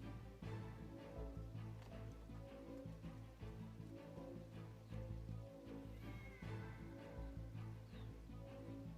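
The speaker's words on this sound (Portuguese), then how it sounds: "E esse gatinho aí é de suma importância." In an episode of the Demon Slayer anime, a kitten meows repeatedly, its soft cries mixed in with the soundtrack's background music and effects.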